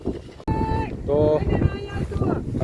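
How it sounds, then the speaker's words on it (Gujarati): Strong wind blows across a village farm in Gujarat, gusting and buffeting the microphone while people talk close by. "અત્યારમાં પવન બહુ છે."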